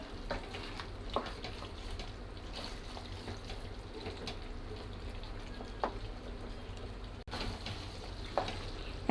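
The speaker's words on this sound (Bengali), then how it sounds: "আমি মাংসটাকে আরও 10 মিনিটের মতো ভালোভাবে কষিয়ে নেব।" Beef curry is braised in a pan with a continuous low sizzle and bubbling, punctuated by intermittent scraping stirs of a spoon, heard up close with no speech.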